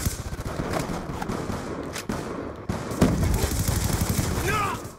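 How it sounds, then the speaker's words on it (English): Shotgun fire in a fast-paced online shooter video game: repeated sharp blasts crack out over a dense, noisy battle soundscape, one shot closely following another. "I'm using a shotgun"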